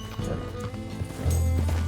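Horse hooves clip-clop in the Red Dead Redemption 2 video game, a steady run of soft hoofbeats at moderate distance beneath game ambience, with a low sustained tone entering in the second half.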